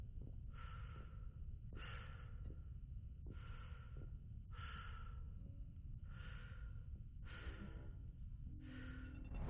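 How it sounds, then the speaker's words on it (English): Slow, heavy breathing in the video game Mass Effect 2 repeats in a steady rhythm, about seven breaths, loud and close over a low rumbling background. "The sound drops out. You can just hear the breathing."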